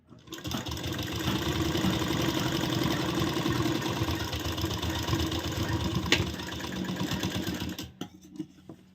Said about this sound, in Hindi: इस इलास्टिक को हम इस तरह खींचते हुए पूरा यहाँ तक सिलाई लगाएंगे